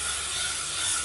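A steady, close hiss of L'Oreal Elnet hairspray sprayed onto curled hair, one continuous burst with no pauses.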